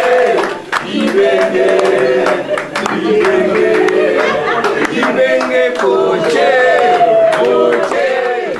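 Warm applause from a crowd greeting football coach Florent Ibenge and a small team at midday, loud and sustained with dense clapping, cheering and voices mixed throughout.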